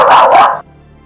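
One loud, sharp dog bark rings out close by, then cuts off into near silence.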